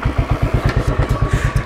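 A Royal Enfield Bullet 500 single-cylinder motorcycle engine thumps steadily at idle, close and loud, with an even rhythm of about eight beats per second and no talking.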